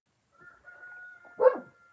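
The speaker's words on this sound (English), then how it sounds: "Again, apologies for those dogs." A dog lets out a single sharp bark near the end of a faint, tonal whine, heard moderately close in a quiet indoor setting.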